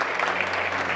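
Conference audience at the South Summit corner stage applauds, a dense continuous patter of many hands clapping at steady strength across the whole short moment.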